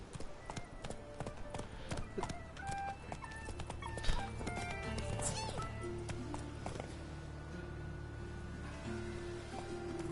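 Horse hooves clip-clop in a fast run in The Witcher 3: Wild Hunt, amid game sound effects and background music, with scattered clanks and an animal whimper, moderately faint.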